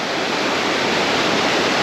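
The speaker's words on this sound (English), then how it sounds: "you can see the waterfall up there" Josephine Falls in Far North Queensland pours down in a steady, dense roar of rushing water, continuous and loud with no pauses.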